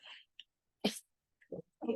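A single sharp sneeze bursts out close by, followed by a brief pause and a few soft words.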